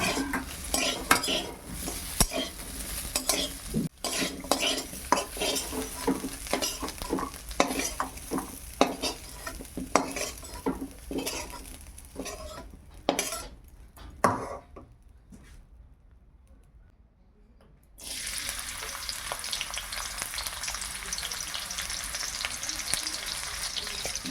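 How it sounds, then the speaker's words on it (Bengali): Onion frying in oil in a pan, a close crackling sizzle broken by stirring scrapes and utensil clinks, dropping almost to silence for a few seconds before the hiss returns strongly. "পেঁয়াজটা ভাজা হয়ে গেছে"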